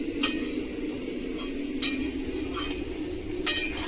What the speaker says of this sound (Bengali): এইবারে আমি পনিরগুলো দিয়ে দিচ্ছি